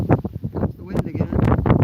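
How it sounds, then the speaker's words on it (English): Gusty wind at a lake buffets the microphone in low rumbling bursts while a person talks nearly throughout, easing briefly near the end before picking up again. "Comes the wind again."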